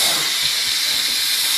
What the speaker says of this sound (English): Let the steam go!